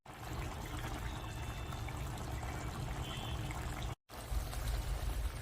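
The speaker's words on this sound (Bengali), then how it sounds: "এখন আমি গ্যাসের ফ্লেম হাই করে দিয়ে খুব ভালো করে ফুটিয়ে নেব" Pond snails boiling hard in a pot of water over a high gas flame, giving a steady, close bubbling and gurgling wash that runs continuously with one brief break near the end.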